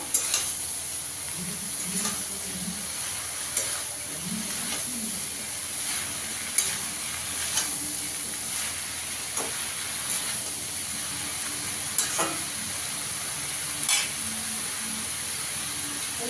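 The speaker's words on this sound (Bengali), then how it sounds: "বাঁধাকপিটা দিয়ে ভালো করে এর সঙ্গে মিশিয়ে নেব।" Cabbage stirred and fried in a pan for a vegetarian Bengali dish, with a soft continuous sizzle and hiss, periodic scraping strokes and light utensil clicks up close, and no talking.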